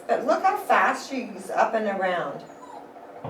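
A young female puppy gives soft whimpering cries and yips during a sound test, heard faintly beneath a voice talking over them.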